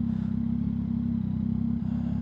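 Steady low idle of a Yamaha MT-09 SP with its inline-three crossplane CP3 engine, an even throbbing rumble held close and constant for a couple of seconds.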